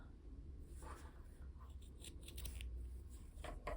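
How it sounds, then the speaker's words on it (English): Scissors snipping crochet yarn while finishing a tassel for a bookmark, several quiet close cuts in a row against a faint room hiss. "Then I'm going to pop our scissors in the middle."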